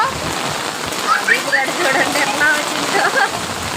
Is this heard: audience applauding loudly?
no